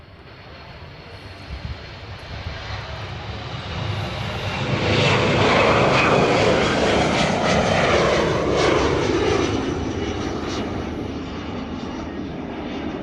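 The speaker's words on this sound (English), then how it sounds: "So this departing here on the Reef Runway, it's a KC-135. It's a air-to-air refueler." A KC-135 air-to-air refueler jet departs on the Reef Runway, its broad engine roar swelling from a steady rumble to a loud, sustained peak and holding as the aircraft climbs away.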